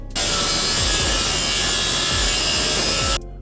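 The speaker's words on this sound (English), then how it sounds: "Introduce you to the worksharp field sharpener." Steady abrasive rasping of a knife blade drawn across a Work Sharp field sharpener, a continuous close scraping with faint repeated strokes, loud and alone for about three seconds before stopping abruptly.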